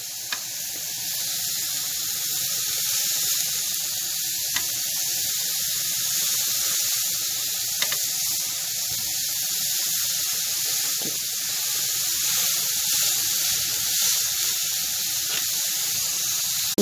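Food cooks on a hot griddle with the flame turned low, giving a steady close hiss and sizzle throughout, with occasional faint ticks and no voices.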